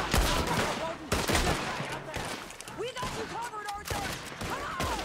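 Red Dead Redemption 2 gunfight with dense, overlapping shots and volleys going off continuously, while excited talk carries on over the firing.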